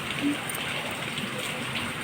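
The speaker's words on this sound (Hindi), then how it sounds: "सड़क पर बारिश हो रही है" Rain falling on a road, a soft, even hiss of drops spattering the surface, steady and moderately faint with no talk.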